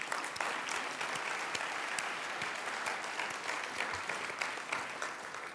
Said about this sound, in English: let's give a round of applause to our event team.